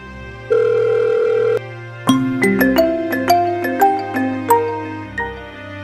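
A mobile phone rings with a loud, close melodic ringtone: a sustained tone, then a run of bright, bell-like notes rising and falling in a quick, regular rhythm.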